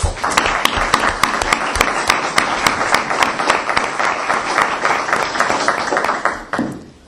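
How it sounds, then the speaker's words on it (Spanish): Audience applause for a conference speaker at a university, many hands clapping in sharp distinct claps that stay loud and steady before cutting off near the end. "yo quisiera que se lo agradeciéramos todos con un fuerte aplauso"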